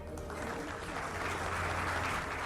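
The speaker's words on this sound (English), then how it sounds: "Give him another round of applause." An audience at a panel discussion breaks into steady, continuous applause, a dense wash of clapping that holds even throughout without any voices.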